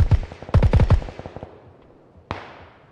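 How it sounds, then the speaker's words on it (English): Gunfire in PUBG on PC: a quick cluster of loud, sharp shots in rapid succession, then a few fainter trailing cracks and one more isolated shot after a pause, with no talking over it. "Oh, I just got shot from behind."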